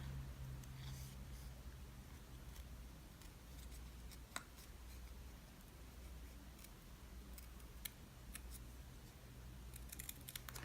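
Scissors snip through paper in quiet, irregular little cuts, with small ticks and rustles spread across a hushed background and no voices.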